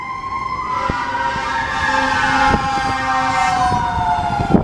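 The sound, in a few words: emergency vehicle sirens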